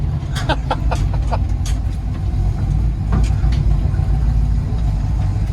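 A 1981 Delta 88 engine running while driving, a steady low rumble held throughout, with a few brief higher clicks and squeaks early on and no speech.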